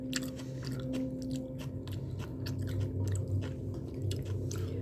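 Crisp, wet crunching of raw green onion being bitten and chewed close up, steady repeated bites over a low background hum, with no talking.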